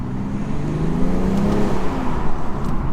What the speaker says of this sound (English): let's do a little sound check actually, because it's 6 cylinders.